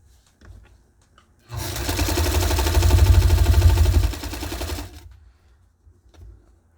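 A Necchi Alco sewing machine runs in a single smooth, loud, even stitching pass of about three and a half seconds, with a brief quiet lead-in and fade before and after.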